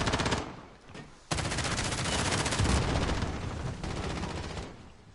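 Rapid bursts of automatic gunfire from the Call of Duty Modern Warfare video game on PS4, loud and dense, with a short pause before a long continuous volley.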